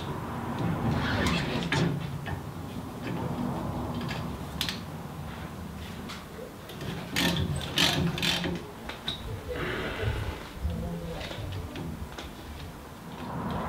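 A car jack under a Mitsubishi L200 pickup ratchets in a home garage, with irregular metallic clicks and taps spread across the stretch at moderate, fairly close volume.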